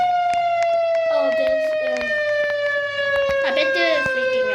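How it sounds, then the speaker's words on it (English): Rooftop siren in the Roblox game Brookhaven, a loud steady wail with a slowly falling pitch and rich harmonics, running continuously with a player's voice talking over it. "I literally have a siren on top of my roof."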